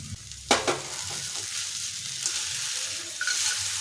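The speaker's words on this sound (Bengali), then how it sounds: "এখন যে বাদামটা ভেজে রেখেছিলাম ওটা এর মধ্যে দিয়ে দিচ্ছি" Fried peanuts get stirred into sabudana pilaf in a pan. A sharp clatter comes first, then a soft, steady sizzle runs under brief scrapes of the spoon, all close and fairly quiet.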